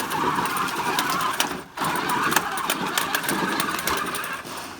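A Traxxas X-Maxx RC truck climbs a flight of steps, its motor whining and revving loudly and continuously, with one brief drop near the middle as it strains, and no talk.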